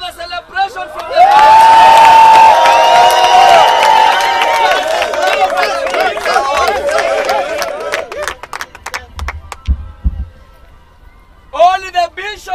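Big crowd outside a house erupts in loud sustained cheering, whooping and clapping for several seconds, then thins to scattered shouts before a brief renewed burst of voices.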